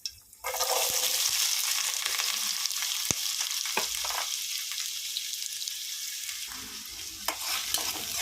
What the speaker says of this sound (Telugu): మనం కోసి పెట్టుకున్న పచ్చిమిరకాయలు ఉల్లిపాయ వేసుకుందాం